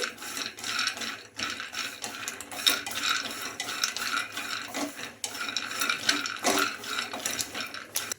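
Peanuts fry in a pan while a metal spoon stirs them, repeated rhythmic scraping and clinking over a soft sizzle, steady and close throughout.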